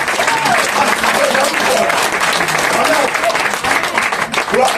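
A church congregation claps and cheers loudly and steadily for the full stretch, a dense wash of applause with voices calling out over it.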